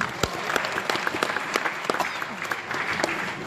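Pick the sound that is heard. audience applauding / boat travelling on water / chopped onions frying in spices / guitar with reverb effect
audience applauding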